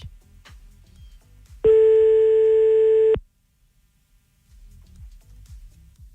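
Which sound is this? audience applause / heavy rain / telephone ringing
telephone ringing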